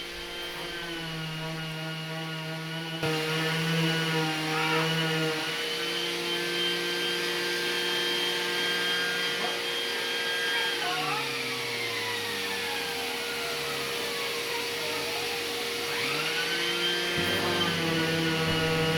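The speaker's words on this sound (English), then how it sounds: "we give it a quick sand just to remove some of the glue marks" A power sander whines steadily on a wooden bookshelf profile, cleaning off glue marks. The drone is close and continuous, with its pitch sliding as the load shifts, and no talk over it.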